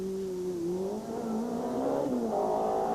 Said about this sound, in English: the peace and quiet was about to be shattered by the roar of rally cars raced in anger